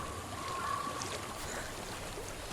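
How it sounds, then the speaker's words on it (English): Flowing water in the video game Hellblade: Senua's Sacrifice, a soft, continuous rushing stream heard alone at low level, unbroken throughout. "I hear water."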